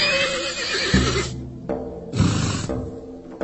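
Horse whinnies twice in a radio drama scene, two loud, close neighs with a short gap between them, set against a horse-drawn cart being readied in a courtyard.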